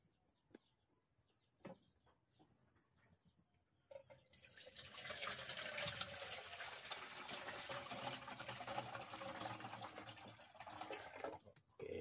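Water running or filling outdoors in a rural Filipino setting, a steady loud broadband rush that starts suddenly after a few seconds of quiet with faint clucks, then continues without break to the end.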